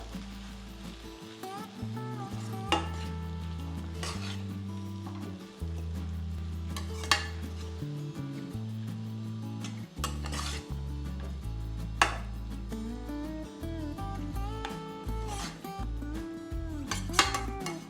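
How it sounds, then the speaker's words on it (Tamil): Poha upma with onion and tomato being stirred in a pan on low heat: soft scraping and gentle frying sounds under steady background music, with occasional sharper knocks of the spoon against the pan. "நல்லா மிக்ஸ் பண்ணிக்கோங்க. வெங்காயம் தக்காளியும் இந்த அவுலும் நல்லா மிக்ஸ் ஆகிடணும்."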